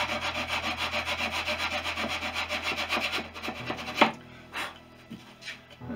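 Wooden tail gussets on a Fisher Youngster V kit plane being hand-sanded flush, a steady rhythmic back-and-forth rasping for about three seconds, then a few sharper scrapes and knocks, close and moderately loud.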